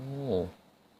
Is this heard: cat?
yes